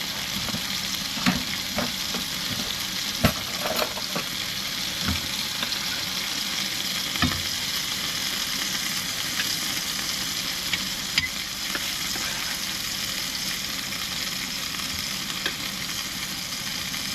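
Potatoes sizzle steadily in a frying pan during an outdoor fishing-trip meal, with occasional stirring scrapes and clicks over the continuous close frying hiss.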